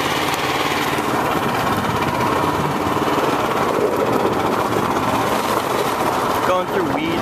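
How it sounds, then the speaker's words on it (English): A go-kart engine drones loud and close while the kart drives over dirt and through weeds, a steady buzzing roar with a brief dip near the end. "I'm out having some fun with my go-kart"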